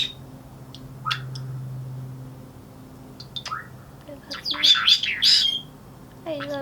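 Pet birds chirp and squawk indoors, starting with scattered short tweets and building to a burst of loud, shrill calls near the end, over a faint steady hum.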